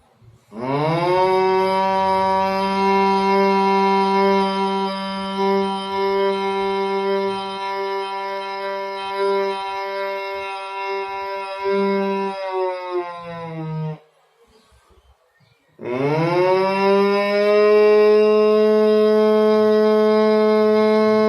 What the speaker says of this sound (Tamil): இப்போ சங்கு நாதம் எப்படி ஊதுறது